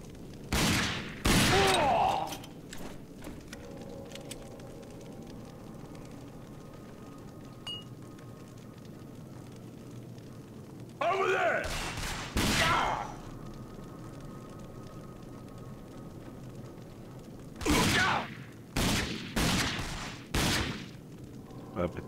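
Gunfire in the RAGE video game crackles in loud rapid bursts, one early, one near the middle and a string of shots near the end, with quiet stretches between.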